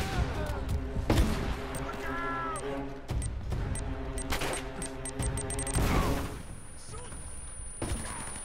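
Gunfire from the video game Uncharted: Drake's Fortune crackles in repeated bursts and single shots under a player's shouted talk, with in-game impacts scattered throughout.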